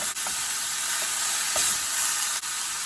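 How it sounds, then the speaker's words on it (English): Shredded kohlrabi and fresh turmeric stirred in a frying pan for a moong dhal curry, a steady loud sizzle with a few soft scrapes of the spoon and no talking. "Give it a quick stir. To this we'll add the shredded Kholrabi."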